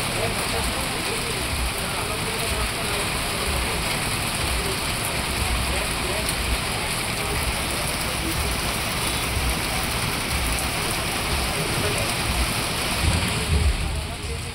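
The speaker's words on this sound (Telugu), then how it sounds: "మధ్యాహ్నం నుంచి భారీ వర్షం పడుతోంది" Steady, dense hiss of heavy afternoon rain falling continuously on surfaces at Araku, loud and unbroken throughout.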